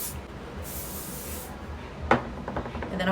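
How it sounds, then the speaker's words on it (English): Two bursts of hissing aerosol hairspray, each lasting about a second, followed by a short clatter and faint rustling handling noises. "So I'm gonna put this spray again."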